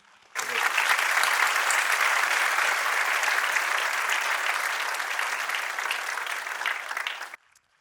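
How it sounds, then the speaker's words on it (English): A conference audience at a sustainability conclave in Mumbai bursts into loud applause to welcome chief guests, starting abruptly, holding as a dense, even roar of clapping, then cutting off sharply after about seven seconds. "Let's all welcome our chief guests with a huge round of applause"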